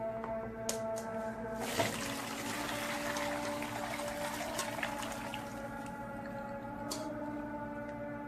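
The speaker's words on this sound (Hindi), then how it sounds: "अब मैं इसकी यखनी छान लूंगी। ये यखनी मैं इसमें छान लूंगी।" Chicken yakhni stock being strained into a pot in a home kitchen, a steady close pour of liquid running continuously over a low background hum, with a couple of brief clinks from utensils.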